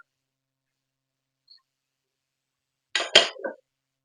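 Broccoli and cauliflower stirred in a pan: after near silence, a brief cluster of metallic clinks and scrapes from a utensil against the pan, close by and lasting well under a second.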